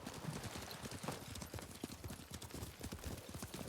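Horses gallop across open ground in the game Ghost of Tsushima, their hooves clip-clopping in a steady, dense rhythm up close, with a faint whinny now and then and no talk over it.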